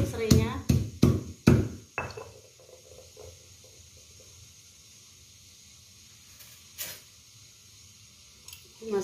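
A lemongrass stalk is smashed to bruise it, giving four or five sharp, loud thuds in quick succession at the start, followed by a long stretch of quiet low room noise with one faint knock later.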